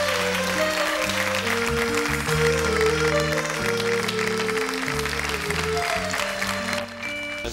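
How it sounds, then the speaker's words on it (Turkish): A studio audience on a Turkish television show applauds departing guests in a sustained, even round of clapping under music, fading somewhat near the end. "seyircilerimizin de alkışıyla yollayalım onları"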